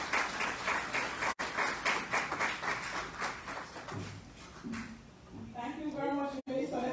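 Audience applause for a minister at an eGov Jamaica Technology Month showcase: a dense, steady wash of clapping that thins out toward the end, with voices talking over it.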